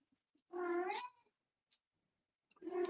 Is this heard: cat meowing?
yes